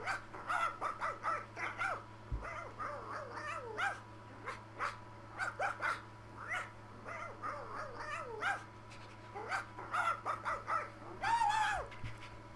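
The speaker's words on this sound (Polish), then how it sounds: "o jest pies Krypto" Krypto the super dog in the LEGO Batman 3: Beyond Gotham video game barks and yips repeatedly in quick irregular bursts, with whimpering cries mixed in, heard clearly over a steady low game hum.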